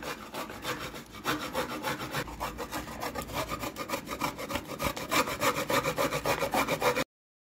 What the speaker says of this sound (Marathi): इथे थोडंसं खोबरं किसून मी टाकणार आहे कारल्यात